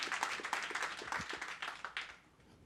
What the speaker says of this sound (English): Clap it up for family in the house